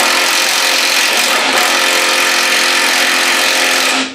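A power tool whirs loud and steady, close by, unthreading the factory mounting bolts on a car being torn down, running continuously before cutting off at the end.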